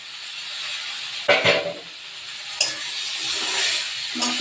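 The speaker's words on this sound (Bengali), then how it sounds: "এবার নারকেলটা দিয়ে দিলাম ভাজা নারকেলটা" Fried coconut is stirred into chana dal in a pan, a steady hiss of frying with a couple of louder scraping stirs near the start and middle, close and alone.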